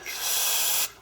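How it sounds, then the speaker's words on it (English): Brake cleaner is sprayed onto a rag in one close, forceful hiss lasting under a second, rising quickly and cutting off sharply. "Brake clean"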